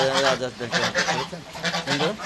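Several Chinese geese honking close by on a rooftop after rain, in repeated overlapping calls, loud and nasal, with no talk.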